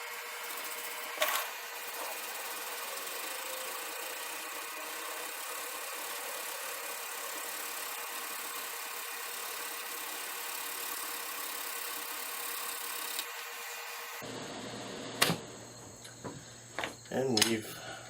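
An electric fan blows smoke away during mouth-drill fire-making, giving a steady close whir with a thin high whine for about fourteen seconds, then the sound shifts and a few scattered knocks and handling noises follow.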